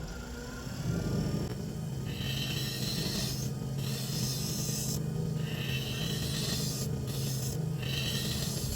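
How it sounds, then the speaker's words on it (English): Sandpaper rasping steadily across wood to remove tool marks, a continuous close scratchy rubbing with rhythmic back-and-forth strokes that briefly ease off now and then. "let's take these tool marks out and sand"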